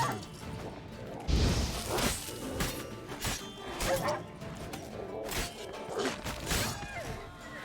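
A dog barks a few times at mid distance in The Witcher 3, the sharp yips mixed with thuds, whooshes and clattering game effects and ambient background noise.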